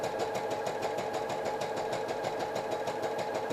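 A sewing machine stitches fabric for a pencil skirt, running at a steady close-up rhythm of fast repeating needle strokes with a mechanical hum and no talking.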